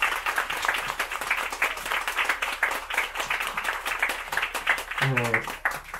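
Applause rings through a moving moon-viewing train carriage on the Iga Railway for a performing musician: steady, moderately distant clapping from a small crowd lasting the whole stretch, with a brief voice rising near the end.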